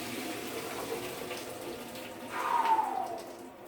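Cooked spaghetti and its water are poured through a sieve colander, giving a soft, brief gush and splash over a quiet kitchen background, swelling near the end before fading.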